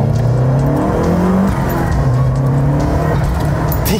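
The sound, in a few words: sports car engine revving and accelerating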